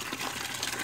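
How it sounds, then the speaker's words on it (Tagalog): Water being pumped into a drum on a farm in Nueva Ecija, Philippines, making a brief, steady gushing rush of liquid, fairly close and without talk. "Kaya magbomba na lang po tayo."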